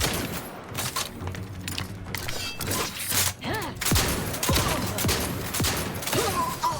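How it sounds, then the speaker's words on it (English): Repeated gunshots from weapons fired in The Outer Worlds 2, a rapid uneven volley of sharp cracks and thuds layered with game effects and a busy background mix, with no talk over them. "I swear to God, I'm not hitting most of these shots"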